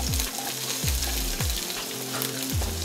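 Ginger and green chilies sizzling in hot oil in a pan, a dense, steady frying hiss close by with a regular low thumping underneath, and no talk.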